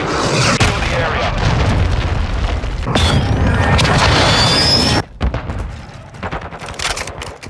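Heavy explosion from a cruise missile strike during a hardpoint match in Call of Duty Modern Warfare 2: loud, sustained booming rumble with crackling gunfire layered over it, cutting off sharply midway, then scattered blasts and shots.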